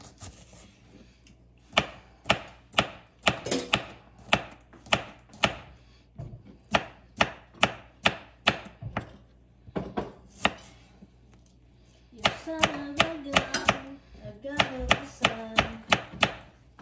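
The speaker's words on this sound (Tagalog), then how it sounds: "So I'm gonna cut onion for that." Onion chopped with a knife on a cutting board at home, a series of loud, close, sharp chops in uneven bursts, some quick and rapid, with short pauses between runs.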